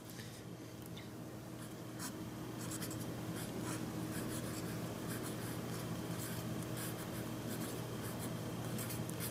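A pencil scratches steadily across manuscript paper while writing out major scales, a close, continuous rubbing with short bursts of strokes and no talking.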